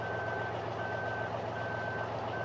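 A truck's reversing alarm in Farming Simulator 2013 beeps steadily in an even repeating rhythm over a constant low engine idle, moderately close and with no talking.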